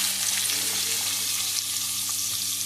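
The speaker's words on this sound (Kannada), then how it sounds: "ಇವಾಗ ನಾವು ಕಟ್ ಮಾಡಿಕೊಂಡ ಈರುಳ್ಳಿಯನ್ನು ಹಾಕುವ." Chopped onions hitting hot oil in a pan for dhaba-style dal tadka, a steady close crackling sizzle that holds even and unbroken throughout.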